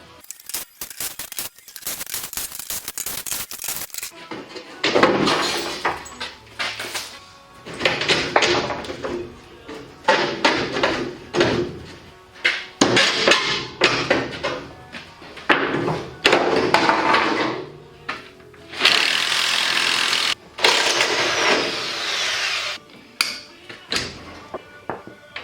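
An old farm manure spreader being stripped of its shaft and beaters, a run of irregular metallic clanks, knocks and ratcheting wrench bursts close by, separated by short pauses.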